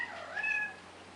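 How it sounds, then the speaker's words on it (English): A house cat gives a single short, faint meow with a rising then falling pitch, close by in a quiet room. "Oh, sorry, that's my cat talking."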